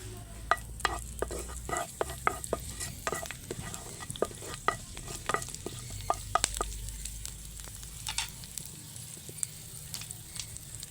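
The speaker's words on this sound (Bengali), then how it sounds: "দিয়ে দিচ্ছি কালো জিরা আর দিচ্ছি কারি পাতা এবারে এগুলোকে একটু ভেজে নিচ্ছি" Black cumin seeds and curry leaves fry in a little oil for a Bengali nasta, giving a steady close sizzle with scattered crackles and pops and a low bubbling bed, with no voices.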